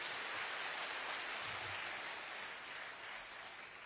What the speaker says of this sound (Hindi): ताली मारो थोड़ा जोरदार।